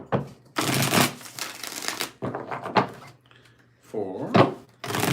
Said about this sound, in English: Let's get 7 shuffles.